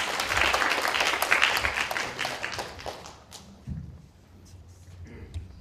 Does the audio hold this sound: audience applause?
yes